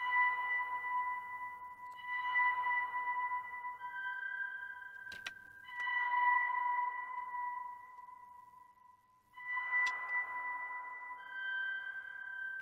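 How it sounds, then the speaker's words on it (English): Soft ambient bell synth with a stereo imager effect, steady sustained tones swelling and fading in slow pulses, faint and alone with no voices. "Quite simple as well, basically just an ambient bell sound"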